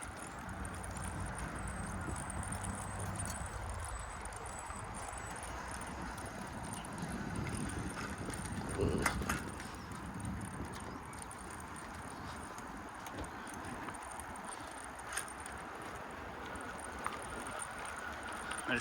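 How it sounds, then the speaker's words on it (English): Magnum Navigator e-bike with bigger tires riding over a rough, hard-packed trail, giving a continuous rumbling roll with wind noise and an occasional knock, steady and close throughout. "riding on this rough, hard packed trail"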